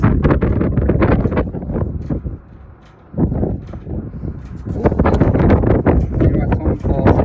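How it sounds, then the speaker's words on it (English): Heavy wind buffets the microphone in loud, rumbling gusts, briefly easing before roaring back, with a voice speaking underneath. "It's really windy out here"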